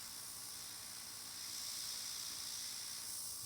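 An airbrush sprays Airnails paint through a stencil onto fingernails, giving a continuous soft airy hiss that swells a little halfway through and carries on without a break.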